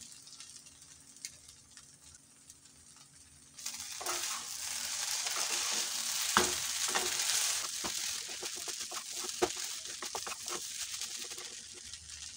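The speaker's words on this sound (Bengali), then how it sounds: "এবার আমি ভেজে রাখা চীনাবাদাম আর কাজু বাদামটা মিক্স করে দিয়ে দেব।" Dalia upma with fried peanuts and cashews being stirred in a hot pan: a steady close sizzle that swells after a quiet start, broken by scraping spoon clicks and rustles.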